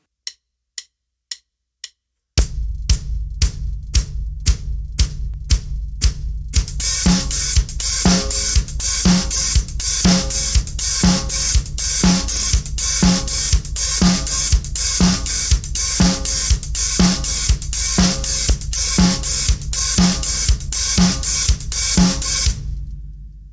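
Disco drum kit pattern building up: a few lone kick drum beats first, then the hands join with sixteenth-note hi-hats and backbeat snare over the four-on-the-floor kick, loud and steady.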